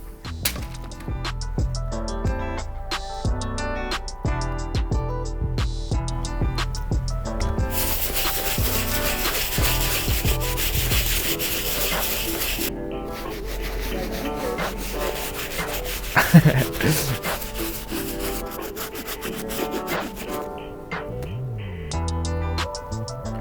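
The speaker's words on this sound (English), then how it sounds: "the first brush we're going to be using is our soft bristle brush, so we can start breaking down the dirt on the uppers." A soft bristle brush scrubs the dirty uppers of a destroyed Air Jordan 4 Black Laser sneaker, making a steady, close rubbing and scratching that continues throughout with short louder bursts.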